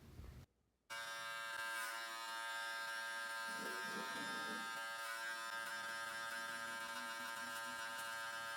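Hair clippers fitted with a one guard cut hair during a high taper, a steady loud electric buzz running close and continuous after a brief quiet start, with the tone shifting slightly as the blades move through hair.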